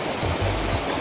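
A large river flows near Anjani Kund waterfall in Gujarat, giving a brief, continuous rushing roar of moving water. The sound is fairly loud and close, with no speech.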